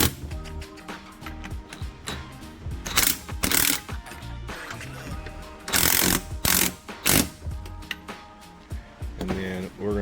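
A ratchet tightens bolts on the front strut of a Mini Cooper in a home garage, with loud mechanical clicking in bursts and a few heavier clanks, close to the listener.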